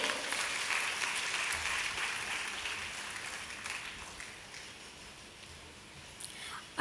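A crowd at a ceremony honouring a guest applauds, the clapping fairly loud at first and gradually thinning and fading over several seconds.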